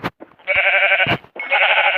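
Sheep bleat in the Minecraft video game, two loud, close, wavering bleats separated by short thumps.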